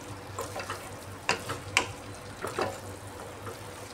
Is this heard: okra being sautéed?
yes